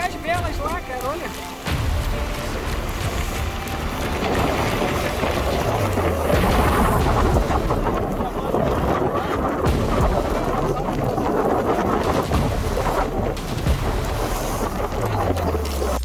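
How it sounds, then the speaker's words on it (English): Violent storm winds roar across a sailboat off a coastline, a dense, sustained rush of wind noise and buffeting that stays loud and steady throughout, with a brief quieter passage at the start. "Out of nowhere hits an enormous storm, catching everyone by surprise. Violent winds rip through the coastal line"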